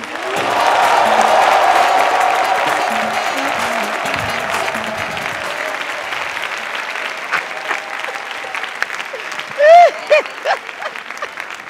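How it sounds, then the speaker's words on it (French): A large crowd applauds loudly and steadily, the clapping gradually thinning out toward the end as a few whistles and cheers pipe up. "Mesdames et messieurs, beaucoup d'applaudissements pour Sergent De Capi"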